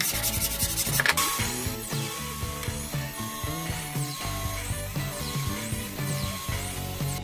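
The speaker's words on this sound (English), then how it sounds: "And I just do that with a sanding board." Steady, repetitive scraping of a sanding board rubbed back and forth along a wooden gear edge, close and continuous, with no talking.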